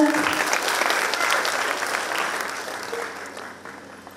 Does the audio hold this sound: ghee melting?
no